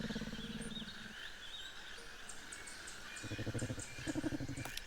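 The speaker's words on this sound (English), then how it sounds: "There are all of the roars for the Utahraptor." A Utahraptor in The Isle Evrima video game gives a run of chirping calls and rougher roaring bursts, with several rhythmic pulsed calls in the second half, moderately loud over steady ambient game noise.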